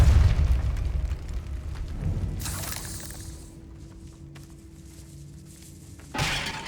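A spell blast in the Hogwarts Legacy video game tears through cobwebs in a decayed catacomb: a loud, rumbling boom opens, then a crashing, shattering burst, a quieter stretch with a sustained tone, and a final sharp blast near the end.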